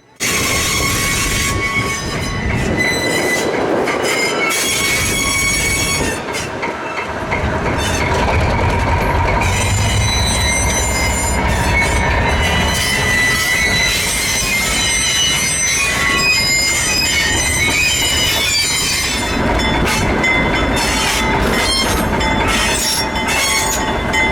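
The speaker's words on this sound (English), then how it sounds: "our conversation was interrupted by number 11 making another move" Locomotive number 11 moves along track at the Hoosier Valley Railroad Museum, loud and close, with sustained high metallic wheel squeal, rumbling and clanking throughout, and no talking.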